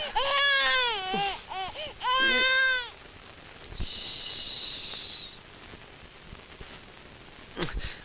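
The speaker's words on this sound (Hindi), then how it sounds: "बच्चा रो रहा है।" An infant cries in a Hindi drama scene, two loud wailing bursts in the first three seconds, then quieter room noise with a steady high whine and a couple of soft knocks.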